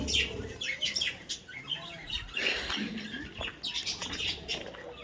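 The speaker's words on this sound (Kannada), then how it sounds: "ಪಕ್ಷಿಗಳಿದಾವೆ ನೋಡಿ." Birds chirp at Kailasgiri viewpoint, with short, bright calls repeating at an irregular pace against a busy outdoor background, fairly close and moderately loud.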